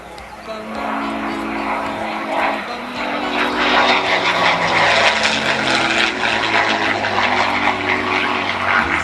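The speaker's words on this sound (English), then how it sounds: "We see these beautiful aircraft flying" Vintage propeller aircraft fly past at a 2008 air show, a loud, sustained engine drone that swells and holds steady over several seconds, with a voice speaking underneath.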